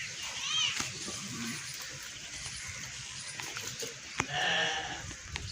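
Goats in a Pakistani village bleat in a few short, quavering calls, near and moderately loud, between and under people talking.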